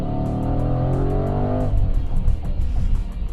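A 2020 Range Rover Velar SVAutobiography Dynamic Edition with a supercharged 5-liter V8 drones steadily under load, then shifts into a rougher, throatier roar as the throttle changes, with no voices.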